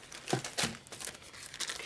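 Hand rummaging through a bag of parts for a 1942 Harley-Davidson 45ci WLA flathead transmission rebuild, crinkling plastic rustles in a few short bursts, close and fairly quiet.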